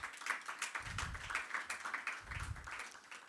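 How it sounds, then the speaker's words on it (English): Applause for graduating trainees at the first cohort graduation of the Public Finance Management Academy for Africa, a moderately faint, steady patter of many hands clapping together for about three seconds, with low thumps mixed in. "I think we should give those 51 who have been able to scale out of 145 that started a huge round of applause."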